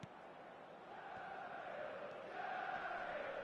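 Stadium crowd in a football video game, a steady broad roar of cheering and applause that swells slightly toward the end, with no distinct voices standing out.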